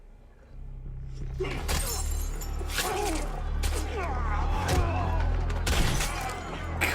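Gunfire in a tense Westworld scene, sharp cracking bursts erupting repeatedly over a low rumbling score, with loud transient volleys and shattering impacts spread through the scene.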